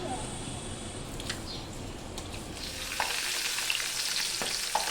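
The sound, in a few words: fish frying in a pan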